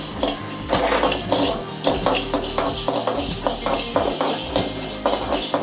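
Chillies and coriander seeds dry-roasting in a pan for crab kulambu, with a spoon repeatedly scraping and clanking against the metal. The stirring clatter is close and steady, the strokes come in an irregular rhythm, and no one speaks.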